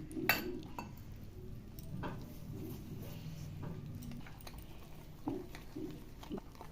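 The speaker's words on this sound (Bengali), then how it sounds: "ভালোভাবে ব্যাটারটা ফেটিয়ে নিব যাতে কোনো গুটলি না থাকে" A whisk clinks against a bowl while mixing cauliflower pakora batter of gram and rice flour with water, giving soft, irregular taps and scrapes over a low, steady background.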